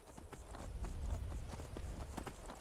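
Horse hooves clip-clopping at a steady riding pace in the video game Skyrim, a quiet rhythmic patter of repeated hoofbeats with no talking.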